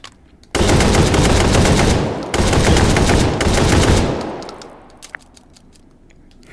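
Saiga shotgun fired as fast as the trigger can be pulled in the VR game Hot Dogs, Horseshoes and Hand Grenades, two long dense bursts of loud close blasts with a brief gap, then tailing off into echo and a few clinks.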